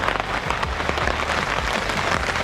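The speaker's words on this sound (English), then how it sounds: "it's the downside of using cheap tarps. Lots of noise, but they do keep the rain out." Rain drums steadily on a cheap tarp shelter pitched beside a car in the Ozark National Forest, a dense continuous patter close overhead with no talking.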